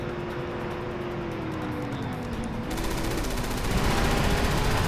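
Continuous automatic gunfire in the Resident Evil 6 video game during a vehicle chase, a dense rattling burst over loud engine rumble, growing louder toward the end.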